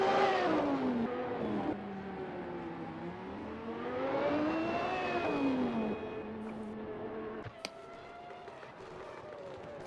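A race car in a practice session on a South African circuit, engine whining as it slows and dives into the pits, pitch rising and falling through gear changes, with a sharp click near the end.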